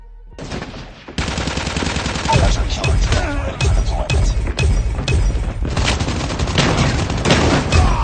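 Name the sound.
Raygun firing in the video game Call of Duty Mobile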